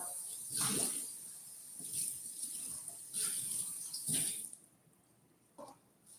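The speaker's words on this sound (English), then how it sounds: "I'm gonna rinse this out" Tap water running and splashing as a bowl is rinsed in a kitchen sink, in soft uneven gushes that rise and fall, then a brief clatter as the flow stops.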